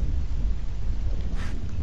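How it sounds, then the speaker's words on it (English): Thunder rumbles through a stormy in-game night in Don't Starve, a steady low roar with a brief brighter crackle swelling near the end, no voices. "Oh no, it's thunder time."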